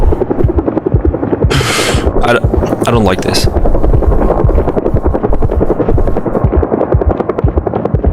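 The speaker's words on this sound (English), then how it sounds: "That's a helicopter." In the video game Project Zomboid, a helicopter flies overhead with a loud, continuous thudding rotor chop, while someone talks briefly over it and bursts of sharper noise break in early on.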